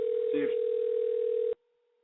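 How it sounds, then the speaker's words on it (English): A telephone line tone holds loud and steady for about a second and a half, with a brief voice under it, then cuts off abruptly into near silence. "You have a phone call."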